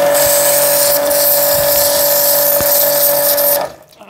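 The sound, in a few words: water jet machine spraying fish, Cazar KS-CW170 2700 watt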